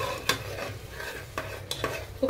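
Mutton masala, oily after cooking, is stirred in a pan: a soft sizzle under a few distinct scraping strokes of a spoon against metal, close and brief.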